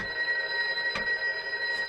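A telephone ringing inside the murder mystery video game Loretta, a single electronic bell ring with steady tones and a short burst near the middle, heard alone and fairly soft.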